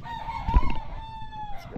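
A rooster crows once, a long wavering call up close, with a few faint clucks and rustles around it.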